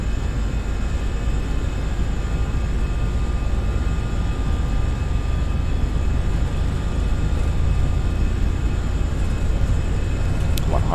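Airliner engines spooling to takeoff thrust in a flight simulator on a departure from Osaka Kansai, a steady loud broadband roar with a low rumble that holds constant throughout, with no pauses.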